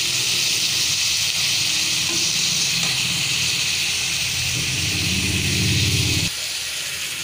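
Tomatoes sautéed and stirred in a pan for a Tamil fish gravy (meen kuzhambu), giving a steady, loud, broadband hiss that runs unbroken until it drops slightly near the end.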